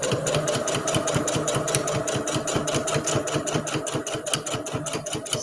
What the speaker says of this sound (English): I'm going to be sewing just on the binding.